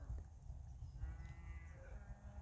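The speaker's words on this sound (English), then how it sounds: "Can you hear that cow in the background?" A cow lows faintly in the distance on a hillside farm, a quiet drawn-out call over low background rumble.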